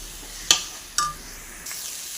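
Potatoes stirred in a pan of cooked-down spices, with a couple of sharp clinks of the spoon against the pan over a low, steady frying hiss.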